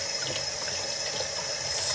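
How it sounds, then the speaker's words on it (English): Water from a tap streams steadily over a wig being rinsed while held on a hand, a constant close hiss and splash without pauses. "that water can just run right off the top and not get to the underneath layers"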